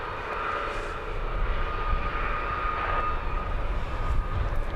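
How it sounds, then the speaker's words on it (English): An EasyJet airliner bound for Amsterdam taxiing at London Luton Airport, a steady, moderately distant jet engine whine and rumble that swells slightly and holds throughout. "The Amsterdam EasyJet that was just sat there for so long is finally on the move."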